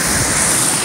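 Creek water flows over rocks outdoors on a nature hike, a steady, loud, rushing wash with no voices.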